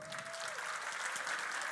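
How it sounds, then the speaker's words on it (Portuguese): A crowd at a tech talk applauds in a faint, continuous patter of many hands, steady and distant throughout. "Vocês podem aplaudir ela?"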